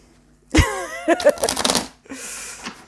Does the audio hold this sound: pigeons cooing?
no